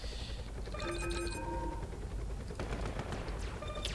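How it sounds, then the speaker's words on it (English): An AirMech unit fires in the video game AirMech Beta: synthetic gunfire bursts crackle over steady electronic tones and a constant game background hum, loud and continuous. "So the AirMech can shoot"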